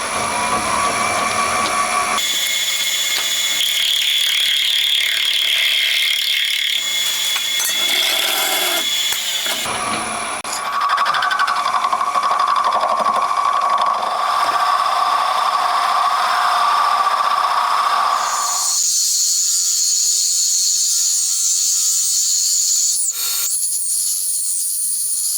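A boring bar machining a cylinder for a 125cc four-cylinder, 16-valve engine makes a continuous loud metallic cutting whine. The pitch shifts between passes and drops to a higher, thinner tone near the end, with no talking.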